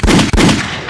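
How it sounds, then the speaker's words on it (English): A gunshot sound effect played on a podcast: two loud, booming shots in quick succession, each with a rumbling tail, and no speech over them. "Let me hit the gunshot because we have beef."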